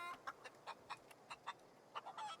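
A chicken in the video game The Outer Worlds clucks in a steady series of short, quiet clucks, with a brief squawk at the end.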